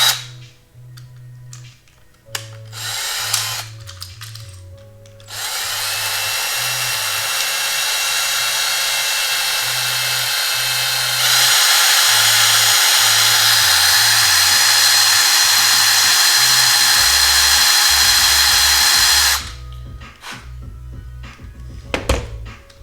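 Power drill widening holes in the foot posts of a Rock 'em Sock 'em Robots toy, a loud sustained whir running for about fourteen seconds with a pitch shift midway, bracketed by clicks and knocks of handling.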